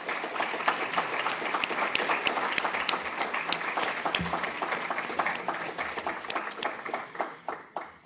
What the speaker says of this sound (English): Can I ask for a big round of applause for our panelists, please?